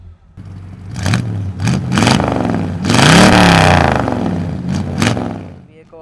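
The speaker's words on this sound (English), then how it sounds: "Let's fire this bad boy up." A 1967 Oldsmobile Cutlass Supreme with a 350 engine cranks, fires and revs in several loud bursts, rising and falling close by, with a long sustained rev in the middle.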